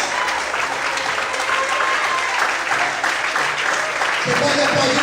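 A church congregation applauds together, a loud, sustained wash of clapping that holds steady throughout, with a sustained musical tone and voices mixed in toward the end.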